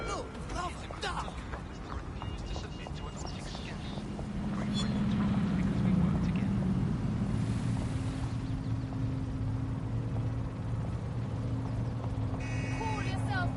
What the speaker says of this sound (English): Look, lovely duck.